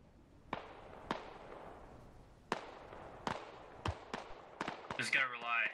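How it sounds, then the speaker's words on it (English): Mortar rounds land in the Squad video game as a series of distant, sharp thuds with a short decay, about eight impacts spaced unevenly, ending under a voice that starts talking. "mortars dropping in on Silver's position"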